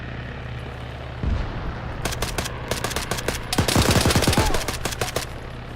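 In the Arma 3 video game, a helicopter lands amid gunfire: a steady low rotor rumble underlies loud rattling bursts of machine-gun fire that grow denser and heavier, with no voices.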